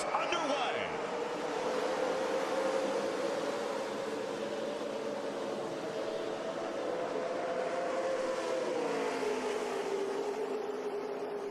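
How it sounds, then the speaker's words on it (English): NASCAR Camping World Truck Series engines roar at the start of a 2009 Daytona race, a dense, steady mass of motor drone heard at a distance with crowd noise blended in. "Hearing those motors fire up and take the green flag at Daytona."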